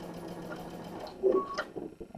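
A sewing machine stitching a seam in a home sewing room, a brief close run of rapid mechanical whirring that stops with a couple of clicks and small knocks.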